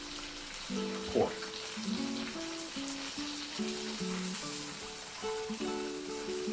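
Pork cutlet frying in oil for tonkatsu, a quiet steady crackling sizzle, close by, with faint bits of speech-like sound over it.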